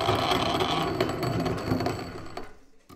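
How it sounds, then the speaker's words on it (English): A solar-powered DC motor drives a grain mill grinder through a belt, giving a steady whirring, grinding mechanical hum that fades out near the end. "You can see that DC motor turning. It's turning a belt, which is turning the grinder."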